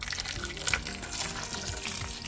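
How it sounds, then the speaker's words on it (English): Water pours steadily into an electric skillet over rice and other ingredients for a one-pot dish, giving a continuous close-up splashing gush with no talking. "So I'm going to add the water now."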